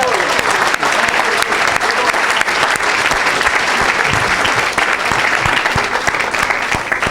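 A church congregation applauds and acclaims the Lord, a dense, loud wash of clapping that fills the room steadily from start to finish with no pause.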